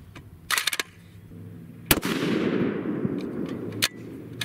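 A custom 7mm PRC rifle firing Berger 195gr Extreme Outer Limits loads gives one sharp, loud, close report with a rumbling tail, among a few other clacks and impacts.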